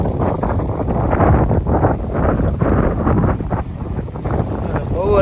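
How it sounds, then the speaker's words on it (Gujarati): Strong wind buffets the microphone outdoors under a neem tree near Rajkot, a constant low rumbling roar that swells and dips for the whole stretch, with muffled voices partly buried beneath it. "પવન બહુ છે"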